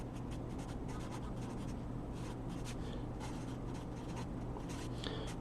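Chalk or marker scratching out an equation on a board during a chemistry lecture on enthalpy and specific heat, a steady run of short, close strokes with no talk over them.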